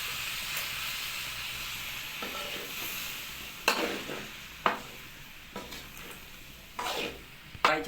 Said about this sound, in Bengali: এবার হালকা জল দিয়ে কিছুক্ষণ কষে নিতে হবে।